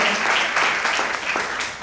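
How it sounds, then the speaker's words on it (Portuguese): A church congregation at an evening service claps together in praise, a loud, close burst of applause that carries on briefly and fades slightly toward the end. "Você pode aplaudir o Senhor nessa noite?"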